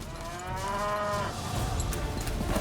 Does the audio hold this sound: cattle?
yes